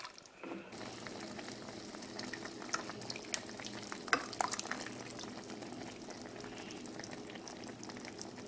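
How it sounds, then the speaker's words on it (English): Jamaican oxtails simmer and sizzle in a pot, a quiet, steady bubbling and crackling with small pops and a brief stirring clatter near the start, with no talking. "add that in and then cover it and allow it to continue to simmer"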